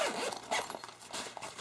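A zipper on a small hand-held Glock range bag is drawn open, a close, scratchy run of rapid teeth clicks in several uneven pulls, with no talking.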